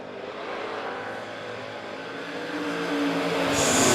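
Race cars battling for the lead at Monett Motor Speedway, a dense, steady roar of engines at a distance that swells louder toward the end.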